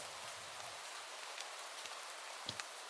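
Steady rain falls in a dark alleyway in the game Do Not Take This Cat Home, a soft continuous hiss with occasional louder drips, quiet and even throughout with no voices.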